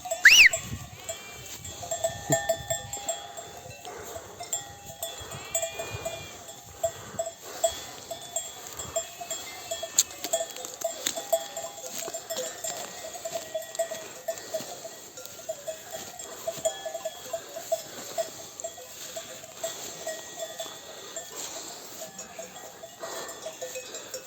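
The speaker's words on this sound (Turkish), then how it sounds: "Koyunlar biraz hızlı gidiyor." Bells on a flock of sheep clank and jingle steadily as it moves along a highland pasture in Mudurnu, Bolu, with occasional faint bleats amid an outdoor rustle, continuing throughout.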